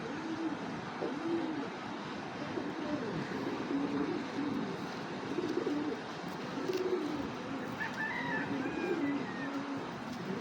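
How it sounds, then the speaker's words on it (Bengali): Racing pigeons coo softly and repeatedly at close range over a low, continuous background hum, with a few brighter chirps late on. "এইটা কিন্তু একটা রেসার কবুতর"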